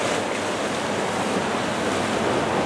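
Large waves in a stormy sea off Hayama, whipped up by a bomb cyclone, roar as a loud, unbroken wash of surf with wind rushing over the microphone throughout.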